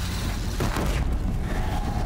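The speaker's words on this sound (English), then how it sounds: "Eat the explosions." Booming in-game explosions from Horizon Zero Dawn during a fight with corrupted Behemoth machines, a dense low rumble with a sharper burst in the middle, loud and continuous throughout.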